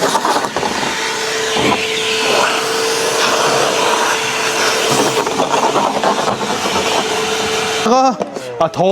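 A Milwaukee wet-dry vacuum cleans the bed of a Kia Tasman pickup truck, a loud steady motor whine and airflow roar running throughout, ending in a sweeping pitch change as the nozzle shifts or the airflow is blocked.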